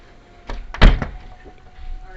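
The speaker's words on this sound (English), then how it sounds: "I went to close this change room door and" A changing room door in a thrift store slams shut hard, a sharp loud bang close by with a brief rattle after it, set against quiet room noise.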